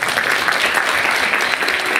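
Sustained applause from the audience at the first Infertility Family Day ceremony, dense and steady across the whole stretch, with no voices over it.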